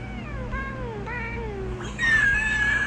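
A house cat meows in a long drawn-out, complaining caterwaul, several wavering vocal pulses close to the microphone, ending with a higher strained cry, with no talking over it.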